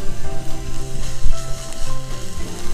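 Onion, ginger and curry leaves sauté loudly in a hot pan, a close, continuous sizzle with bursts of crackling and spatter, with no voices.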